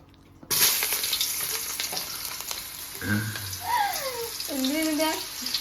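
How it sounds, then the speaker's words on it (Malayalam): Onions dropped into hot oil for chicken mandi, a sudden loud sizzle that settles into a steady frying hiss, with a voice talking briefly over it near the end. "നമ്മൾ ആദ്യം സവാള ഇടാൻ പോവുകയാണ് ഒരു സൗണ്ട് അത് കേൾക്കും"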